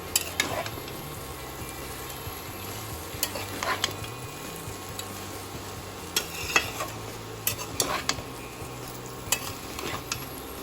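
Vegetables for veg chowmein fry on low flame in a pan while being stirred, a soft continuous sizzle broken by scraping and occasional utensil clinks, no talk.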